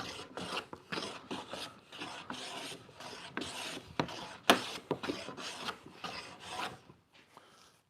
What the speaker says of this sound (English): it feels beautiful to plane